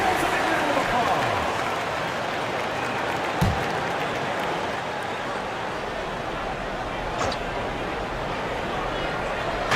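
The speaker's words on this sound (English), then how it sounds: "Give yourselves a big round of applause." Broad, steady applause from a large crowd fills a big arena at a football match, a dense wash of clapping that fades slightly and carries on.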